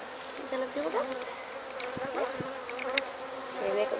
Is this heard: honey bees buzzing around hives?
yes